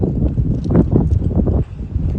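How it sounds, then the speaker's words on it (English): Strong wind blowing outdoors at a horse yard, buffeting the microphone with a loud, continuous low roar and gusty rumbles that dip briefly before picking back up. "Because it's really windy today."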